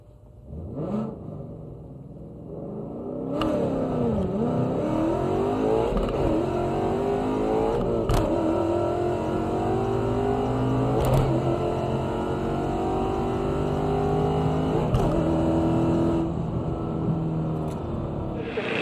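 A drag racing car launching and accelerating down the strip at a car club challenge, a loud engine roar climbing through gear changes with rising and falling pitch sweeps over the whole run.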